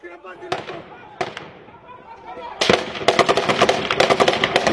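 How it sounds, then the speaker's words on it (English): Gunfire from multiple locations in a town fight against jihadists, first as a couple of single sharp cracks and then as a dense, rapid burst of shots, loud and close, with voices heard. "We were taking fire from multiple locations."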